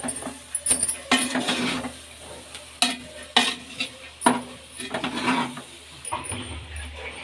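A spoon stirs horse gram curry in a pan, with irregular scraping clinks and light sizzling at close range, several distinct strokes over a quiet background.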